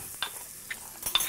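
Chopped onion going into a pot of red lentil soup and being stirred, a few soft scraping, sizzling strokes spread across a short, quiet moment with no talk.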